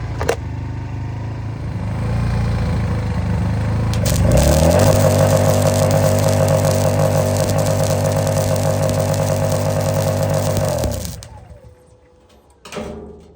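An AIVOLT 1600W ultralight portable generator straining under a welder's load: a loud, close, steady engine roar with a buzzing drone that holds for several seconds, then bogs down and cuts out, followed by a brief burst near the end.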